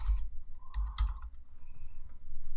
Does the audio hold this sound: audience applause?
no